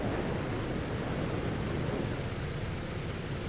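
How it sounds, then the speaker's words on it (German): Distant jet aircraft drone in Microsoft Flight Simulator at Zurich airport, a steady broadband roar held at an even level throughout with no voices. "Manchmal klingt es, als würde hier ein Jet irgendwo rumfliegen."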